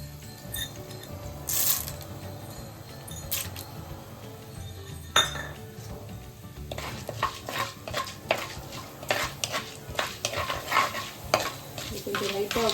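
Urad dal frying in oil in a kadai, a steady soft sizzle broken by metal spoon scrapes and clinks that grow busier and louder toward the end, with no talking.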